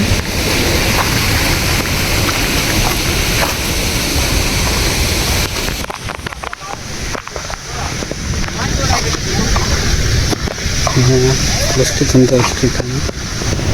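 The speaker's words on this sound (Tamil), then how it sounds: "ஃபுல்லாக தண்ணி போகுது அங்கே பாருங்கள் சரியான தண்ணி ஊற்றுது" Loud, steady rush of water flowing through an aqueduct bridge with broadband roar throughout, wind buffeting the microphone, and people talking faintly in the background.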